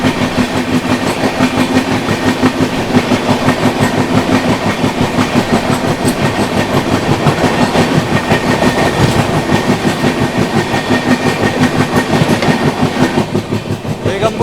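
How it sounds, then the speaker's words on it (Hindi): The Begampura Express, running from Varanasi Junction toward Jammu Tawi, rolls by on the track with a loud, steady rumble and rhythmic clickety-clack of wagons close by, continuing without a break. "सामने से आ रही है वाराणसी जंक्शन से चलकर जम्मू तवी की ओर जाने वाली बेगमपुरा एक्सप्रेस"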